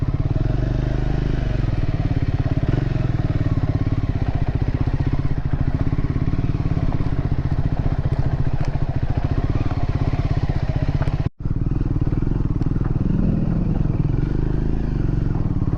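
A motorcycle engine runs steadily on a dusty road in a mountain valley, throttle held low and even, loud and close throughout with a brief cut near the end.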